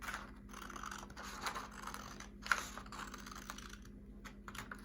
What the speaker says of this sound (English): I'm going to keep my scissors on that line really carefully